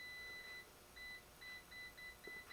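An ohmmeter set to continuity beeps while testing horn wiring on a 1955 Buick Century: short, faint, high electronic tones repeat in an uneven on-off rhythm over a low background hiss.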